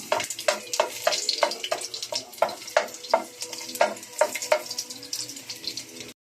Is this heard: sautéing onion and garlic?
yes